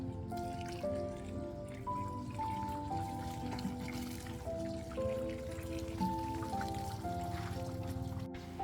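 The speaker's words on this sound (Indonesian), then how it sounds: "Kita siram lagi supaya lebih padat." Water poured onto the soil of a tamarind bonsai tree, with soft drips and trickles running under background music with a clear melody.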